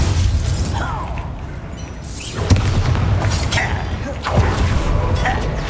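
A Depulso spell blast fires during a Hogwarts Legacy duel: a sharp booming burst with a shattering edge rises over steady, loud combat noise, followed by a second impact a couple of seconds later.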